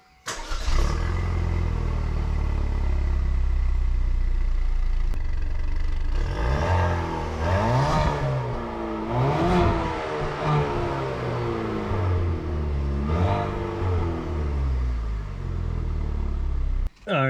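A Cadillac ATS engine fitted with a ZZP catted downpipe and stock exhaust starts up and runs, holding a steady low rumble with several revs rising and falling midway before settling back.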